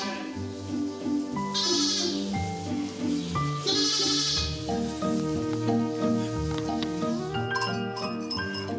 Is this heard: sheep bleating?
yes